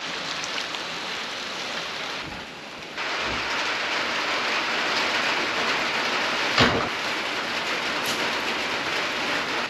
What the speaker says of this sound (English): And in case you guys didn't believe us that it's raining, it's raining.